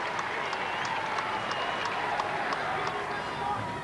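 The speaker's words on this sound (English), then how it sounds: "even the scorers joining in the applause for a captain's innings" Cricket crowd at a Test match applauding the England captain Gatting's fifth Test century, a faint, steady patter of distant clapping from the stands with a commentator's voice running over it.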